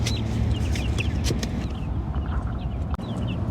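Cornish Cross chicks from a farm-supply store, heard as a dense, continuous chorus of soft peeping and clucking close by, with a brief thump near the end and no speech.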